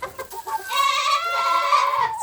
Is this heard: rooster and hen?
yes